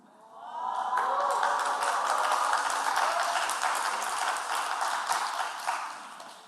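A church congregation applauds together, a dense, steady wash of clapping that swells in quickly and holds for several seconds before tapering off, with no voices over it.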